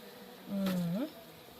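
A single stingless honey bee buzzes past close by in one brief steady drone that rises slightly in pitch before fading, set against quiet background hiss.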